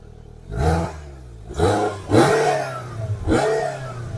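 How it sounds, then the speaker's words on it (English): A 2022 Polaris Slingshot three-wheeled roadster engine revs in four short bursts, each roaring up and dropping back to a rough idle, close and loud. "I want you to rev it up."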